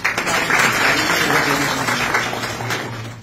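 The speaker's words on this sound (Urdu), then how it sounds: "اوکاش کے لیے ایک دفعہ پھر تالیاں۔" An audience in a Faisalabad motivational talk applauds steadily for a young boy: dense, continuous clapping filling the whole stretch at even loudness, with no voices on top.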